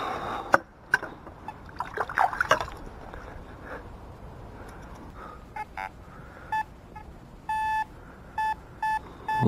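Several short, high-pitched electronic beeps from a metal detector repeat in a broken rhythm near the end, following scraping and rustling sounds, while searching a lake.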